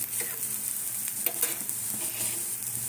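Sliced onion crisping in hot oil for a flattened-rice snack, a steady soft sizzle with faint stirring scrapes, close and continuous, no voices.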